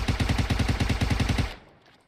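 A rapid burst of automatic gunfire rattles out in a steady, even rhythm in the PUBG Mobile battle royale game, then stops abruptly and fades.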